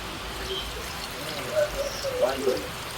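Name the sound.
pouring water into a pressure pot with stew beef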